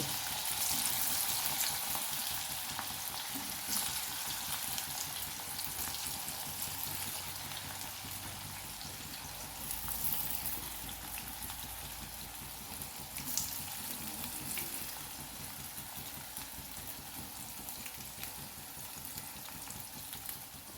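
Bitter gourd slices frying in hot oil, making a steady close sizzle and crackle with faint bubbling throughout and no talking.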